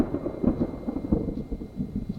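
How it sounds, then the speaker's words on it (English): Thunder from a thunderstorm rumbles low and continuous, with rolling bursts of crackle over a steady roar of rain, fairly loud with no talk. "not sure if you can hear that, but we have a thunderstorm"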